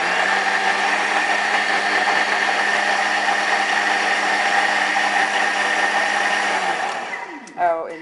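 A Thermomix whirring steadily as it blends cake flour, table salt and other dry ingredients, a loud constant motor drone that winds down near the end, followed by a brief voice.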